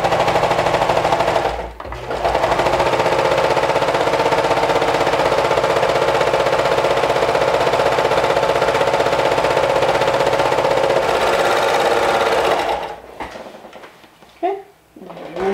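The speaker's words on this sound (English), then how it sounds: "You can definitely do this step on a sewing machine" A sewing machine runs in one long continuous buzzing burst as it stitches fabric, loud and close, stopping near the end with a few softer handling sounds.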